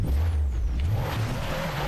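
An overheating car engine in a video game, driving down an extreme downhill slope into a muddy area: a steady, loud low engine hum with a faint higher whine, no voices.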